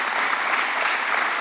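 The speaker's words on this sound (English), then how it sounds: "let's give him a round of applause as well" An audience at a governor's public event claps steadily, a dense sustained round of applause from a full room, without talk.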